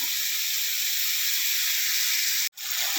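Ginger, garlic, mustard and cumin paste frying in a pan as a little water is added, producing a steady loud hiss and sizzle that breaks off briefly near the end, then resumes.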